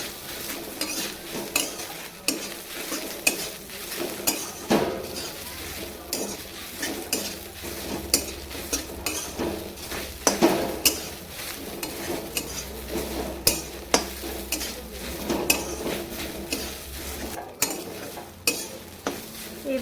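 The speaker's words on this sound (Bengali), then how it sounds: "হলুদ দিয়ে ভালোভাবে নাড়াচাড়া করে দেবো ওরা ভালোভাবে এটা ভাজুক" Jute leaves frying with turmeric and salt in a pan, stirred steadily with a utensil that scrapes and clinks against the metal over a low, continuous sizzle, with no talking.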